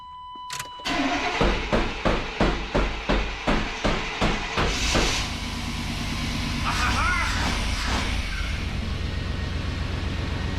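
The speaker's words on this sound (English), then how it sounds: "But hammer away, Wizard." Repeated hammer blows strike a car's fuel pump to free it up, about a dozen sharp rhythmic metallic knocks over a car background, followed by an engine starting and running steadily.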